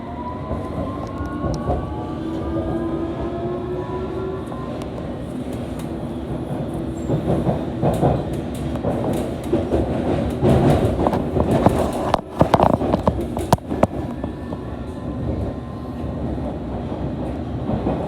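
A London Underground Metropolitan Line train runs along the track with a steady rumble and rhythmic wheel clatter, sharp clanks and squeals rising near the end.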